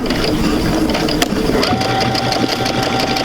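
A sewing machine stitches the seams of a quilt sampler, a fast, steady mechanical whirr with rattling needle action, close and continuous with no voices.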